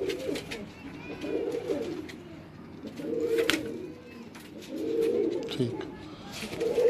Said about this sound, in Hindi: और ये पुरानी नस्ल का कसूरी कबूतर है।